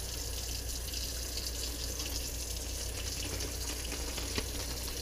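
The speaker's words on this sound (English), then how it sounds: "I fill up the bag with water" Tap water running steadily into a plastic bag holding two catfish fillets being readied for freezing, a continuous broadband rush that stays even throughout with no voices.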